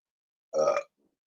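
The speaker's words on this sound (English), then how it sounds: "I burped too much of these claim sales." A single short, close burp, about a third of a second long, in otherwise silent surroundings.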